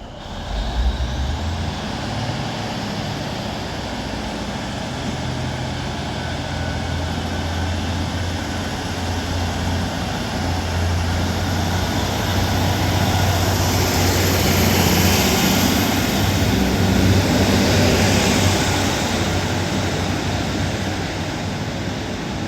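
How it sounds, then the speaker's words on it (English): A Northern passenger train to Southport pulling out of Bolton station, its diesel engine droning low and steady as it departs, the rumble swelling gradually over about twenty seconds with a faint high whine above. "Now departing is going to be the 1401 Northern service to Southport from Manchester Oxford Road."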